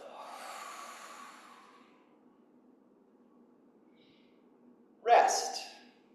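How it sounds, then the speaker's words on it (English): Slow, breathy exhalation during a Yi Jin Jing qigong exercise: a soft, airy outbreath that fades, then near-silence, then a louder, sharper breath near the end, close to the microphone. "Exhale."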